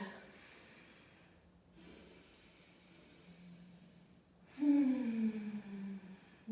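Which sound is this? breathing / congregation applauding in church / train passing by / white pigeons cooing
breathing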